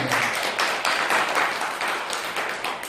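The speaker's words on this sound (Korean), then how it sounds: "이럴 때 박수 한번 치게 됩니다" Audience applause fills a Buddhist Sunday dharma talk hall, a dense, steady patter of many hands clapping together at close range for a few seconds, with no voice over it.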